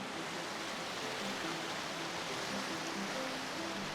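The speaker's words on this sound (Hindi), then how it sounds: "एक छोटा सा वाटरफॉल जो कि पहाड़ की चोटी से आ रहा है" A small mountain waterfall spilling from a peak on a Himalayan trek in Himachal Pradesh, heard as a steady broadband rush of falling water, constant and fairly faint with no voices.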